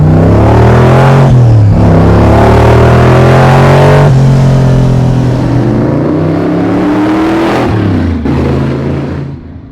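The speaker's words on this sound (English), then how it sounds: "When I step on this thing, it sits down and just takes off." A 700HP blown Hemi engine in a 1951 Henry J drag car revs hard and close in a few loud surges, each pitch climb dropping sharply before the next blip, then settles toward idle.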